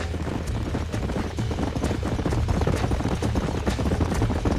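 Horse hooves clip-clop in Red Dead Redemption, a steady galloping rhythm over a low rumble of game ambience, close and continuous.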